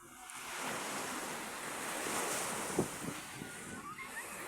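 Ocean surf rolls steadily with a broad wash of breaking waves, wind buffeting the microphone, and a brief sharper splash partway through.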